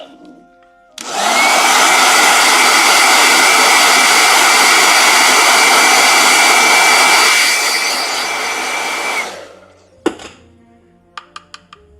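A blow dryer switches on with a click and roars loudly in a steady, breathy whoosh with a high whine for about eight seconds, then cuts off, followed by a few small clicks and knocks.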